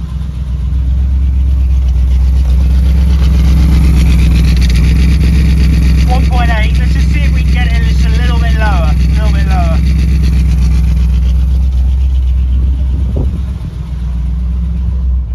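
A car engine idles steadily and loudly during an exhaust CO gas test, a deep constant hum with a brief voice passage in the middle and a slight dip near the end.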